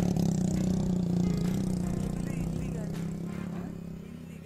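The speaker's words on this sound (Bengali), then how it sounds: "হঠাৎ শুনি বাইকের আওয়াজ" A motorcycle climbing an uphill road at dawn on the rim of Mount Bromo volcano, its engine droning loudly and steadily and slowly fading as it moves away.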